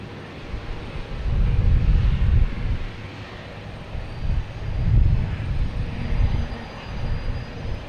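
A Swiss Air airliner moves around Boston Logan Airport with a broad, low engine roar that swells and fades in waves, heard from a distance and steady, with no talk.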